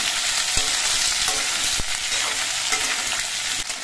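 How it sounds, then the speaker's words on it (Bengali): Steady sizzle of drumstick pods and potatoes frying in a pan, with a few sharp scraping knocks from a spatula being stirred through, continuous and close. "আর ভাজার সময় কিন্তু অনবরত নাড়তে হবে যাতে নিচে লেগে না যায়।"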